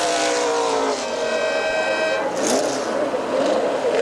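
1982 Camaro race car at Lime Rock Park during an IMSA Kelly American Challenge race, smoking badly as it heads for the pits, its engine droning loud and steady with a shifting pitch that rises and falls as it passes.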